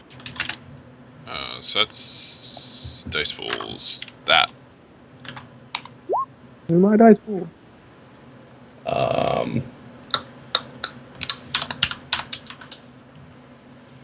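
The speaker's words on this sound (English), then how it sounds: "It would help if I clicked on Roll20 before I started typing." Rapid clicks of someone typing on a computer keyboard during an online Roll20 tabletop game session, bursts of keystrokes coming close and crisp between and under people talking, with a burp-like vocal noise in the middle.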